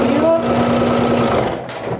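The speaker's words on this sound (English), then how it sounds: "So it's interesting to go back to my first love, the sewing machine." A home sewing machine stitches fabric for a vintage jumper with a rapid, even mechanical chatter, loud and close throughout, holding a steady hum with a faint tonal whine near the start.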